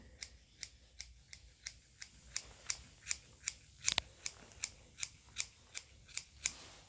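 Scissors snip repeatedly through a horse's mane, a steady run of about eighteen crisp, close cuts at a regular rhythm, with no talking.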